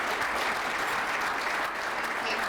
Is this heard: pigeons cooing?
no